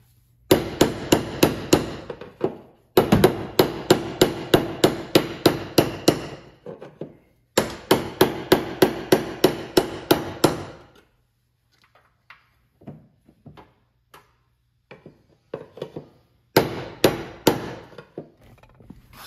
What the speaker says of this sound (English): after a little more hammer persuasion, we got that locking ring back in